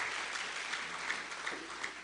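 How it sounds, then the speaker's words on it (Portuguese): Applause in a church congregation, a broad continuous roar of many hands clapping, even and sustained. "Uma salva de palmas para o"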